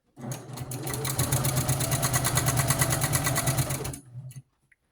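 A sewing machine stitches steadily around the edge of a scrap-fabric doll quilt, a fast even whirring hum for about four seconds close by, then stopping with a couple of small clicks.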